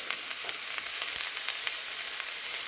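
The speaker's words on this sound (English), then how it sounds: "let's start off our sauce by sauteing the onions" Onions and garlic sauteing in a pan for a sauce, giving a steady bright sizzle with small crackles and pops throughout, close and even, with no talking.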